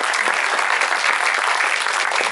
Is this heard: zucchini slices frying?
no